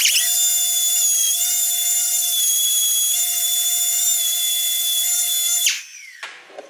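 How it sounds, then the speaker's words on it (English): Power sander running steadily on a one-of-a-kind handmade lamp, a loud continuous high whine held for several seconds before cutting off abruptly, with a few faint knocks after. "Time to do a little bit of sanding."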